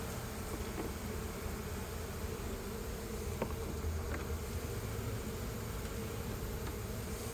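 Honeybees fanning queen pheromone at a gourd beehive, a faint continuous droning hum of many wings with a few brief louder buzzes as single bees pass close.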